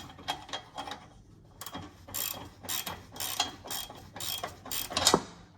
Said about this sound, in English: I love ratchet spanners.